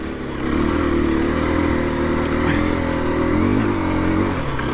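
A 2021 KTM 350 EXC-F four-stroke dirt bike ridden on a first outing, its engine droning steadily and close with a low, continuous throb and slight rises in revs throughout, no voices over it.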